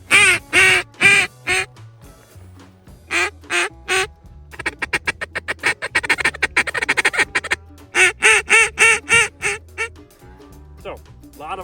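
Someone blows an old-school camo wood duck call named the Preacher, giving loud, close runs of quacks, steady single notes and then a rapid feeding chatter, then more spaced quacks, with no talk over it.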